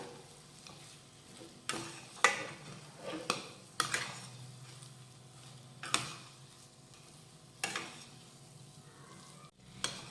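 Sheera cooked in ghee is stirred with cardamom powder and sliced cashews and almonds, producing intermittent spoon scrapes and clinks against the pan over a faint, low sizzle.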